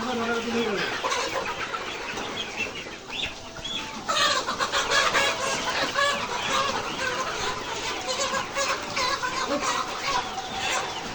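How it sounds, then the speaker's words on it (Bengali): Layer hens cluck and squawk densely and continuously while being caught on a poultry farm, close and fairly loud, with people talking in the background. "আমাদের মুরগি ধরার কাজ চলতেছে"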